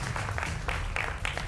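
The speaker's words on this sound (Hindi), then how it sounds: "जोरदार तालियों से उनका अभिनंदन है" A studio audience at a televised political debate claps loudly in uneven bursts, the many hands swelling and fading in quick waves.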